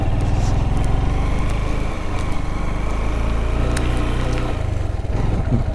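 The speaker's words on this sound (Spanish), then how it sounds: "La moto quiere rendirse, también por falta de oxígeno" A motorcycle engine labours slowly uphill at high altitude, short of oxygen, its low, steady drone loud and close throughout with faint wind noise and no voices.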